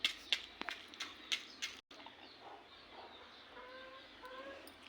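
A farm hen in a village yard gives a string of short, sharp clucks near at hand, then quieter, softer clucking as it settles.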